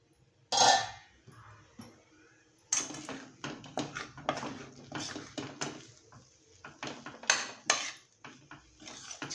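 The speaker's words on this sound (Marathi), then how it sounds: "आता आपण झाकण उघडून बघूया." A metal lid lifts off a pan of potato and green pea bhaji, followed by a series of clinks and scrapes of utensils against the cookware, fairly close and moderately loud.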